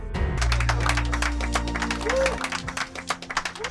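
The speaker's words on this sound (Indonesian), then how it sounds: "si Toren pun mendapatkan tepuk tangan dari semua penumpangnya" Passengers clap in a film scene, scattered hand claps rising over a low rumbling drone that cuts out partway, leaving thinner individual claps toward the end.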